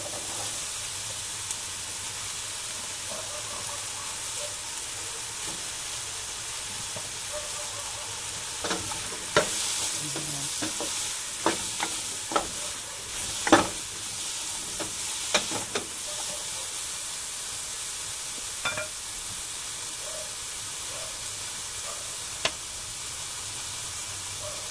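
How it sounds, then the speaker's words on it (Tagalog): Baguio beans stir-fry in a pan for pancit buko, a steady sizzle with scattered sharp scrapes and clinks of a utensil stirring throughout. "Lagyan na natin ang ating Baguio beans."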